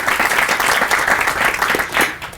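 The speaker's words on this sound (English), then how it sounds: "How about a round of applause for Mr." Applause from an audience at a school library signing ceremony, a dense, even burst of clapping that fills the whole moment and fades slightly at the end.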